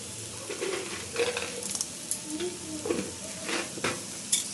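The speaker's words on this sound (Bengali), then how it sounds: "এগুলো দিয়ে আমি আরও কিছুক্ষণ এটা ভালো করে নাড়িয়ে নেবো যাতে মিশে যায়" Carrot halwa with nuts and raisins is stirred in a pan, soft scraping strokes and light taps of the spoon against metal over a faint sizzle, recurring at an uneven pace.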